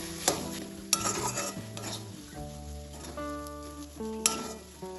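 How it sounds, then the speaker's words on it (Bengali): Potato filling with chopped coriander is stirred in a pan, with a spoon scraping and clinking against the pan in a few sharp knocks while soft stirring continues underneath; musical tones play along in the background. "এখন আমি এর মধ্যে দিয়ে দেবো কিছুটা ধনেপাতা কুচি। এটাও এবার ভালোভাবে মিশিয়ে নেব।"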